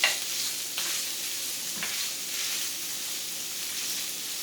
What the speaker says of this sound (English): I'm going to stir in some rice